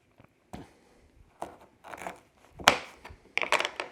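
A knife cutting open a Japanese quince fruit, a few separate close crunching, scraping cuts with short quiet gaps between them.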